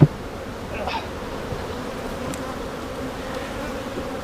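Honey bees buzz at a beehive, a steady close drone of many insects holding for a few seconds with no talking.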